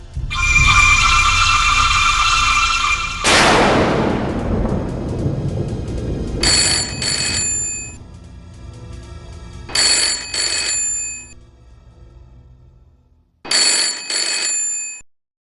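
A telephone bell rings in loud repeated bursts, broken up by a long rumble of thunder, with the rings returning in short spaced pairs before a call is picked up.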